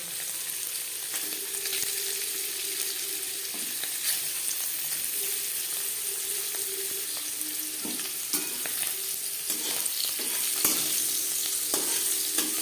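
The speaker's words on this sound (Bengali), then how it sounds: "নবরত্নের কোরমা তৈরি করার জন্য সবার প্রথমে আমি পনির হালকা করে ভেজে নেবো" Paneer frying lightly in a pan for navratan korma, giving a steady soft sizzle with occasional stirring scrapes and clicks, close and even throughout.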